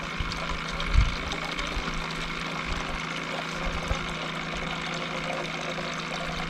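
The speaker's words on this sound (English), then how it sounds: "This is our Amazon special water pump." A portable battery water pump runs steadily at a campsite, filling a cooking pot with a continuous trickle of water over a low motor hum, with one brief bump early on.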